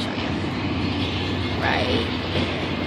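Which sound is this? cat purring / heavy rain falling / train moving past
train moving past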